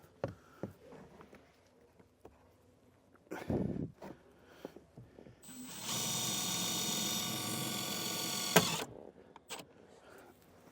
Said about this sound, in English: And we'll go ahead and run a little screw in it just to be safe so it doesn't start rattling around.